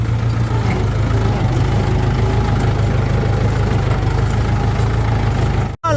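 A tractor's low, steady engine idles and rumbles continuously, loud and close, with a brief cut-out right at the end.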